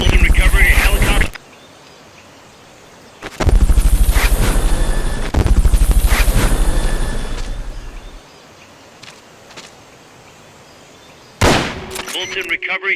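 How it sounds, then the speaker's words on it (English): Fulton recovery helicopter from Metal Gear Solid: Peace Walker, with loud bursts of whirring rotor chop separated by quieter gaps and mechanical game effects, and a final sharp burst near the end. "Fulton recovery subject confirmed onboard helicopter."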